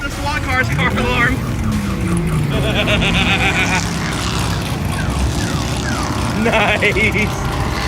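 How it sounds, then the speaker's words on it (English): A SWAT car's alarm wails and chirps in repeating electronic patterns amid loud engine roar and general noise at a car show, with voices talking over it. "They set up the SWAT car's car alarm."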